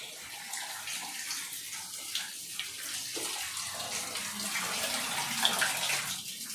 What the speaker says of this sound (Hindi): मेरी बाल्टी में पानी चल रहा है